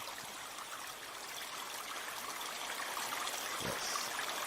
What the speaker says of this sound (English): water sounds of all kinds, the sounds of flowing liquids